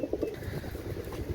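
Oman teddy pigeons, male birds of an imported Pakistani bloodline, give soft, low, pulsing coos close by in a short stretch, with faint background noise.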